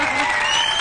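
Studio audience applause on a Turkish daytime talk show, a dense, loud wash of many hands clapping that fills the moment without a break.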